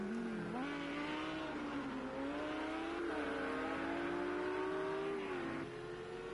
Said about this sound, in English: Lionsfoot going well in the Ferrari here at Monza